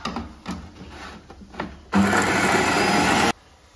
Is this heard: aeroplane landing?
no